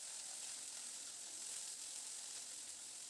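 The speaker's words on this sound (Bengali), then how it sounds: "এরপর এখানে একটা বড় সাইজের পেঁয়াজ কুচিয়ে দিয়ে দিলাম।" Chopped onion with garlic fries in hot oil, giving a constant soft sizzling hiss that stays even throughout with no voices.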